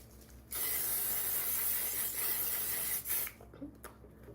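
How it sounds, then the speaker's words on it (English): A steady hiss of makeup setting spray from a pump bottle runs for a few seconds close by, then cuts off, followed by faint rustling. "we're gonna do one more coat of setting spray"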